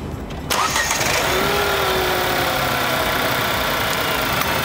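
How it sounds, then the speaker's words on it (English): A Nissan Almera Black Edition with an unbalanced 3-cylinder engine cranks briefly and fires up, then settles into a steady, loud idle that continues unbroken, heard close with no talk. "Start up please."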